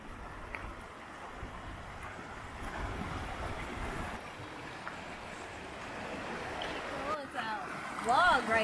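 Clean river water rushes at a decent rate over boulders, with a log forming a small waterfall, near Zion National Park. A steady, broad roar of flowing water continues close by, with a few higher squeaky sounds near the end.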